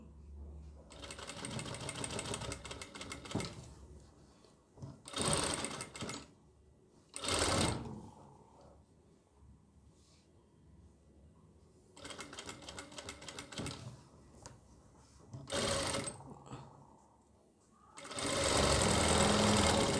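An electric sewing machine stitches a kitchen apron in several loud bursts of running, with quieter pauses between runs and a long final burst at the end.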